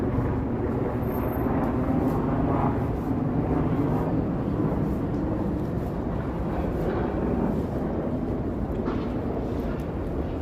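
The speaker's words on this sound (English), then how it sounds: "And another helicopter passing over." A steady, loud low rumble of a helicopter passing overhead in Toronto, sustained without pause throughout.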